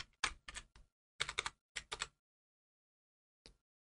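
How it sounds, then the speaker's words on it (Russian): Keys on a computer keyboard pressed in quick clusters of sharp clicks, a Delete key used to erase text, several rapid taps, a pause, then one last isolated tap, close and clear in a quiet room. "На этот раз встанем в начале слова Дмитрий и с помощью клавиши Delete на клавиатуре удалим имя Дмитрий и поздравим Алексея."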